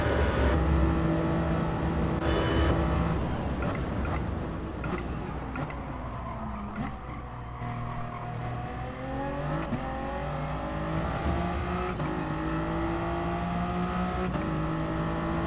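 A Ford GT with a turbo engine races in the video game Gran Turismo Sport, its engine note climbing and dropping repeatedly through gear changes over fifteen seconds, steady and close, with faint ticking clicks scattered through.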